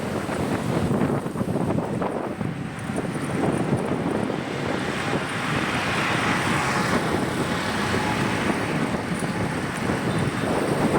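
A vehicle ridden along a road gives a steady, loud rush of wind and road noise that holds evenly for the whole stretch, with no talking.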